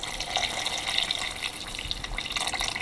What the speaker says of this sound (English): So here, just adding some beef broth.